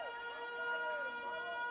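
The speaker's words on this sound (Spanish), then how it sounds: "Suena la sirena en Newlands." A stadium siren sounds at Newlands during an under-20 rugby match between Uruguay and Georgia, a steady wailing tone over crowd noise, held for the whole short stretch.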